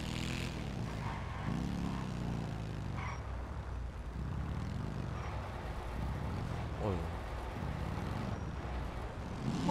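The Cliffhanger car's engine runs in GTA Online, a moderate revving drone with rising and falling pitch as it drives, under someone talking throughout.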